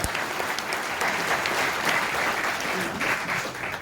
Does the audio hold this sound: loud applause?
yes